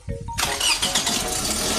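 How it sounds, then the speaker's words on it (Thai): A Toyota Wish car engine, which had a misfire and engine warning light, cranks briefly and catches, roaring up loudly and settling into a steady, normal idle. "ตอนนี้เครื่องยนต์ติดปกตินะครับ"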